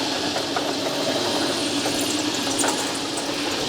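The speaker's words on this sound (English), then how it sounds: "I'm going to cut some 1/4-20 threads in the end of the ball" A metal lathe cutting 1/4-20 threads into the end of a steel ball, a steady loud mechanical whir and hum with a few faint ticks, running continuously and close.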